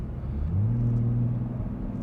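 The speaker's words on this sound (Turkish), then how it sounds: "Egzoz sesi bile değişti." Deep, rumbling exhaust note from a 2021 Toyota Supra in sport mode, idling or lightly revved, steady and close, with a low throaty drone.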